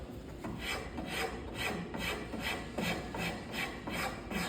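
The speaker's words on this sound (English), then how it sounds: "Now I'll grab a rasp that is even less aggressive. This is the number 10 rasp." A number 10 rasp files across wood in steady rhythmic strokes, each pass a close, even rasping scrape repeating about every half second with no speech.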